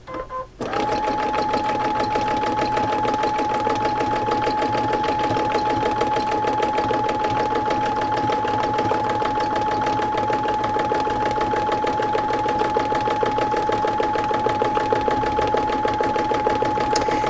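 A sewing machine stitching free motion embroidery circles runs continuously at close range, a fast steady mechanical whir and hum that starts abruptly and holds without pause, with no talking over it.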